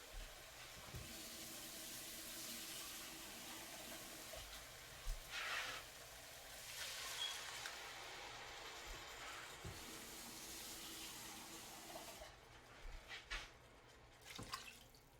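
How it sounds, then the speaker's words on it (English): Water pours into a cooking pan of tilapia with tomato paste gravy, a soft continuous hiss and trickle, quiet and close, with a few small clinks and no talking. "And now I'm going to add a little water."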